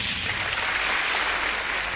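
Cartoon audience applause greets a stage magician, Professor Steinhardt, a steady, dense roar of clapping hands that stays level and loud across the short span, with no voices over it.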